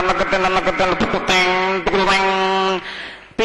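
A performer vocally mimics a mridangam drum at a school arts festival, producing quick percussive strokes followed by a resonant, ringing sustained tone, close and loud, with no other talk.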